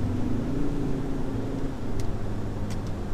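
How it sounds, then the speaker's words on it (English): A 2018 Ford Ranger with a 3.2-litre five-cylinder engine is driven, giving a steady low engine drone heard from inside the cab, with a faint shift in pitch midway and a couple of small clicks near the end. "once you're higher up in the rev range, it does sound like a nice five-cylinder"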